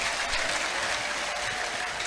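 A church congregation at a parish service claps together, a dense, continuous wash of applause filling the space from start to finish with no pauses.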